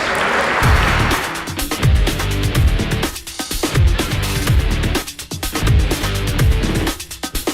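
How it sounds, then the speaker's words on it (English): A crowd at the 2011 FlexLewis Classic bodybuilding show applauds the sponsors, loud rough clapping and cheering with heavy booming low thumps pulsing repeatedly through it, the noise surging and dipping across several seconds. "Give those sponsors a big round of applause for us."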